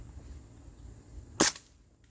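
Springfield Armory M1 Carbine 4.5mm CO2 blowback air rifle fires once outdoors, a single sharp crack with a short metallic clack of the blowback action, loud against quiet surroundings.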